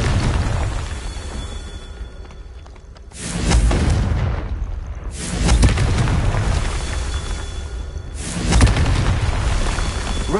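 Confringo fire spell explosions from the Hogwarts Legacy game on PS5, three loud booming blasts spaced a few seconds apart, each followed by a rumbling decay.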